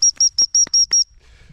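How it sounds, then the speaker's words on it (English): A bird passing during a dog's training with moving birds, giving six quick, evenly spaced high chirps close by, followed by quiet. "Bird fly by."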